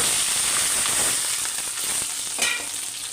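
Onions and green chillies frying steadily in hot oil in a home kitchen, a loud continuous sizzle with occasional stirring scrapes, close and without talk.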